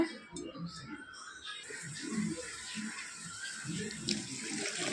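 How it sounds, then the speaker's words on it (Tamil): Water pours from a tap into a pot of moong dal, a steady splashing stream starting partway through, close and moderately loud, with faint voices underneath. "கொஞ்சம் தண்ணி ஊற்றிக்கோங்க."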